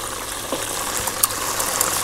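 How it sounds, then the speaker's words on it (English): Fries bubbling and crackling in hot oil, with a steady hiss and small scattered pops near at hand, alone with no talking. "Hear the bubbling and the squeaking. Those are ready to come out"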